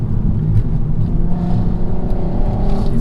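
Volkswagen Golf R32 engine heard from inside the car while driving, a loud, deep, continuous drone with a slight rise in revs across a few seconds.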